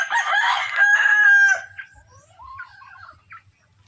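A rooster crows loudly and close by, one long drawn-out call, followed by softer clucking and chicken sounds fading toward the end.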